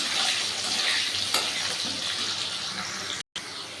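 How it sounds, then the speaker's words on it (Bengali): Diced potatoes fry with salt in hot oil, giving a steady, loud, broadband sizzle with crackling and one soft stir-like bump near the middle, and no voices. "আলুটাকে আমি একটু ভালো করে ভেজে নেব"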